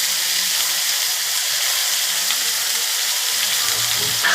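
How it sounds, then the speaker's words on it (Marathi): Ground masala paste sizzles and fries in hot oil with cumin for a homemade cashew masala, a loud, continuous hiss that carries on with no talking. "मसाला हा चांगला तेलात परतून घ्यायचा आहे"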